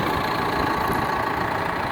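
A 2010 John Deere 6430 Premium tractor engine idling, a loud, steady, even rumble held close up for the whole span.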